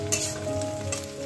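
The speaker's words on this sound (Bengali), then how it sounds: "পেঁয়াজ ভাজা হচ্ছে" Onions fry in a pan with a steady sizzle and a few stirring scrapes, close and moderately loud, with no voices.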